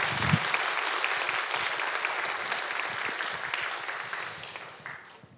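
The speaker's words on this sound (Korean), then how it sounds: "다시 한번 우리 주님께 큰 영광의 박수 올려드리겠습니다." A church congregation at a Korean Baptist special dawn prayer service applauds in a sustained, even wash of clapping that tapers and fades away at the end.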